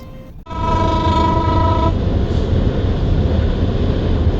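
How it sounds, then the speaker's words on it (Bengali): A train runs past on a railway near Karkhana Bazar in Gazipur, opening with a loud, steady horn blast of about a second and a half that gives way to a continuous heavy rumble and rolling wheel noise close by. "দাঁড়ানোর পরেই একটি ট্রেন ছুটে চলার দৃশ্য উপভোগ করলাম।"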